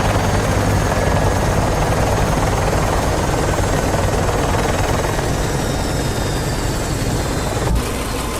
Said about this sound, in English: Once you have Josip in custody, escort him back to the FRV for chopper dust-off.